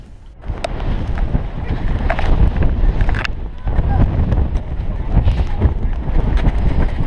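Strong mountain wind on Snøhetta, Norway, buffets the microphone in loud, gusty rushes that rise and fall, with a few faint voices in the background.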